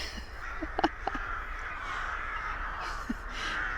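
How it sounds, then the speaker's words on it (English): Rooks cawing at a rookery near a parked campervan: several harsh caws, some clustered in quick pairs, rise over a steady outdoor hiss, moderately distant. "I think I'm near a rookery."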